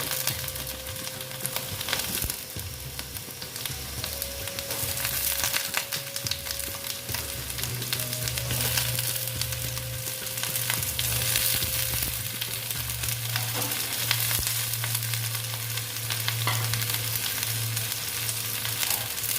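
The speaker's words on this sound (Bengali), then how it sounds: "ঝিঙেগুলো সব আমি ভেজে নেব" Ridge gourd fries in a pan alongside potatoes with turmeric, a continuous close sizzle and bubbling that holds steady throughout, with occasional faint scrapes.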